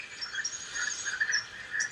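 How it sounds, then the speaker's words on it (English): A mountain chorus frog calls with a series of short, raspy trills, repeated rhythmically and moderately faint against a quiet background. "of a mountain chorus frog that I would like for you to listen to"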